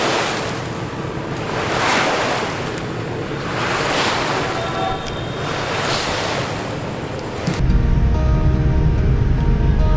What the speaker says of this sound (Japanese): 波の音が